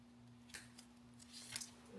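Scissors snip close by during diesel fuel injector replacement, a few quick crisp cuts over a faint steady hum, quiet and isolated.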